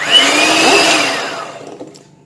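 Electric mixer whirring through cake batter with cornstarch and sugar, a loud close whine that slowly winds down over about two seconds as the motor stops.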